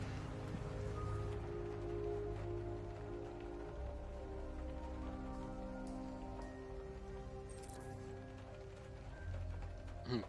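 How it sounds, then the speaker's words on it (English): Steady rain falls in Detroit in the video game Detroit: Become Human, a continuous dense wash of drops on surfaces over a low ambient drone, with faint mechanical clicks now and then and no voices. "It always rains in Detroit."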